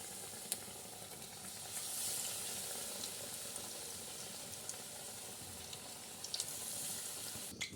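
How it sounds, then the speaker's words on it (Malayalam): Banana fritters (pazham pori) fry in hot coconut oil with a steady, dense sizzle and crackle that runs throughout, close and even, with a few sharper pops and no talking. "വെളിച്ചെണ്ണ നല്ലോണം ചൂടായിട്ടുണ്ട്, ഇട്ടെടുക്കണം."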